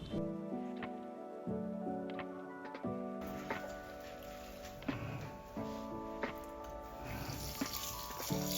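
Crochet clothes are swished and pressed in a basin of water, with soft splashes and sloshing close by. A steady tonal hum runs underneath throughout.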